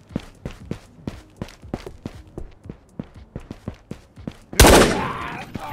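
Gunfire in the Ghosts of Tabor VR shooter on the Matka Miest map: a series of evenly spaced sharp shots, close and punchy, followed by one loud burst that trails off into reverberant noise.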